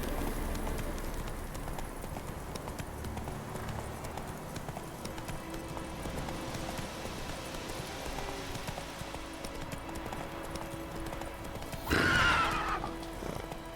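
Horse hooves clop in a steady, faint rhythm as the horse runs in the video game The Witcher 3, with a brief louder burst near the end.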